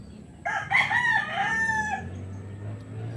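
A rooster in a small backyard chicken coop lets out a single loud, close cock-a-doodle-doo crow, lasting about a second and a half, over a low background rumble.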